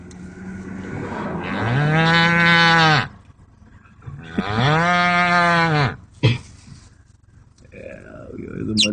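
Two long, loud cow moos with a falling, drawn-out tone, each about two seconds, separated by a pause, followed by a short sharp sound and softer rustling.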